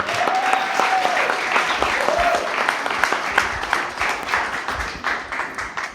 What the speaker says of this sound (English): let's do another round of applause for Justin Gray with Potluck, y'all.